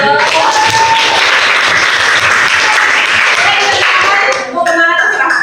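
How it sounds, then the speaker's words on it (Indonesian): Students in a classroom clap loudly and steadily in a dense burst of applause, with a brief dip near the end before voices rise again. "Tepuk tangan dong."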